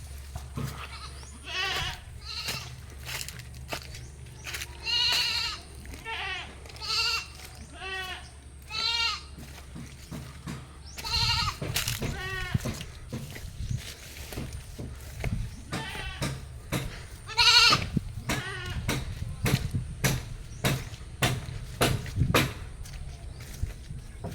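Goats on farmland near Cotabato City bleat again and again, some calls overlapping. There are about a dozen distinct, fairly close cries over the span, with a low rumble of background noise underneath.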